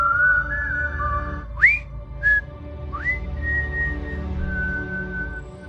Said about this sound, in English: Listen to what he whistles at the end.